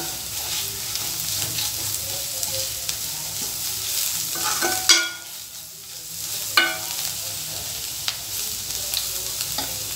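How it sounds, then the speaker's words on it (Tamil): Spiced masala for cauliflower chilli sautés in a pan, sizzling steadily in the foreground while a spoon scrapes and stirs now and then. "கொஞ்ச நேரம் நல்லா வதங்கட்டும்,"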